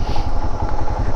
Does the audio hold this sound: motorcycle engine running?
yes